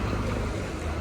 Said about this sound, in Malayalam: അങ്ങനെ ബോട്ട് തിരിഞ്ഞു വന്നു.